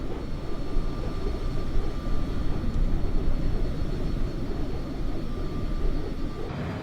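A jet aircraft climbing toward its cruise altitude of about 41,000 feet gives a constant, loud, dense engine roar and cabin rumble, steady and unbroken throughout.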